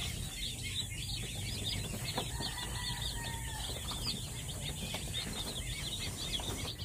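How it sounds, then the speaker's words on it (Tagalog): A flock of newly bought chicks, about a hundred, peeping continuously in a steady high chorus with occasional flutter and clucking, fairly near and alone without talk. "Bumili tayo ng mga sisiw."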